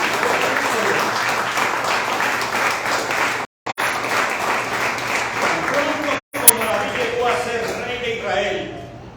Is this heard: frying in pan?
no